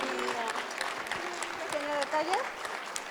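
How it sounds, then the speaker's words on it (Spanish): Audience applause rolls through a hall at the Recrea Familia 2021 congress, a steady crackle of clapping with a voice speaking over it and some crowd murmur beneath. "les pido un fuerte aplauso para entregarles su agradecimiento"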